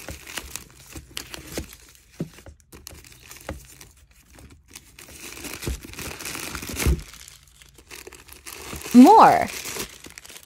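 Packaging for a Coach Mini Town bucket bag crinkles and rustles in soft, scattered handfuls during an unboxing, close up and fairly quiet, with a brief spoken word and a short vocal sound near the end.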